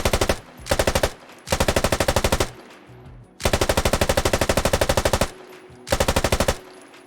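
An RPD light machine gun fires in the video game Squad, loud and close, in four long sustained bursts of rapid, evenly spaced shots with short pauses between them.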